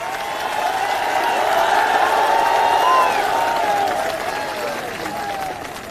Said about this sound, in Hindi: एक बार जोरदार तालियां हमारे सभी युवा साथियों के लिए।